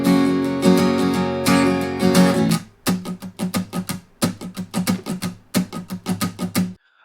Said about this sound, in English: For the choruses, you're going to play a pattern that sounds like this.